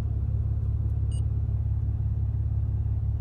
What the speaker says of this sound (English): I got the rumble right now